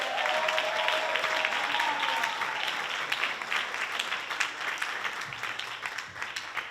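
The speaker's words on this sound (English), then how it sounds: "Please clap it up." An arts festival audience gives a sustained round of applause for the hardworking staff, a continuous wash of many hands clapping that holds steady and then eases slightly toward the end.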